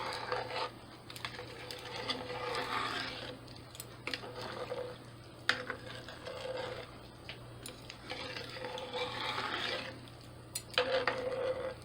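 A spoon stirs small pasta with spices in a pot, making repeated soft scraping and squishing bursts over a steady low hum, with no voice.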